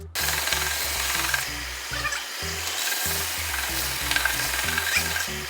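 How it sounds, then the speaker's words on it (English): Power sander taking the rough outer layer off a block of willow cricket bat timber, a continuous gritty rubbing rasp with a pulsing, uneven rhythm as the pad works across the wood. "I'll put the sander on and I'll literally just sand this rough layer off"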